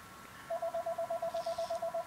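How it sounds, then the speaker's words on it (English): A telephone in the background gives a rapid series of evenly spaced electronic beeps, about a dozen short tones in a steady rhythm, moderately loud and with no talking. "Just ignore that phone in the background."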